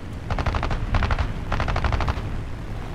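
An I-15 biplane fires its machine guns in War Thunder air realistic battles, with several rapid bursts of gunfire heard close over a constant engine drone.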